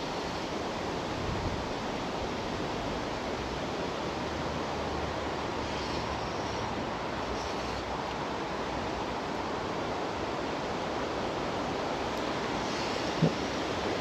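Steady wind roars across a trout and salmon fly fishing spot, a dense, unbroken rushing that fills the whole clip at an even level, with no voices.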